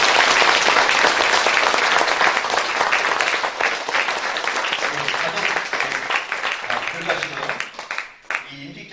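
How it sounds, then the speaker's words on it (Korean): Congregation applauding during a church elder ordination service, a sustained dense burst of clapping that thins toward the end, with a few voices audible underneath. "격려 박수하겠습니다."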